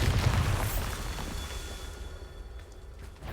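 A Bombarda blasting spell explodes in Hogwarts Legacy as one loud, booming burst at the start, then a rumbling tail that slowly fades.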